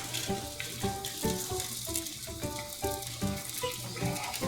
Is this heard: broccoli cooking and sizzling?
yes